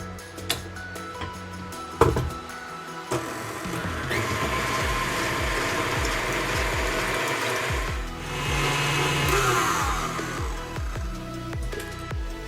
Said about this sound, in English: we're going to whisk this together into stiff peak